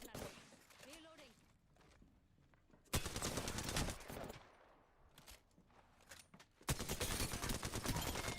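Gunfire in an Apex Legends ranked match: loud, dense automatic volleys, one burst running about a second and another sustained to the end, separated by quieter stretches with a brief voice early on.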